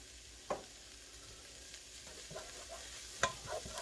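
Basil stirred into hot oil in a pan for a meatball pasta dish gives a faint, steady sizzle, broken by two sharp utensil clicks against the pan.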